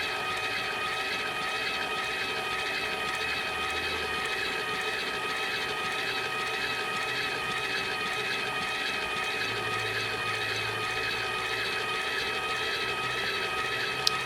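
A Caydo automatic i-cord knitting machine runs nonstop with a steady, even whirring drone that stays near and level throughout, with no voices.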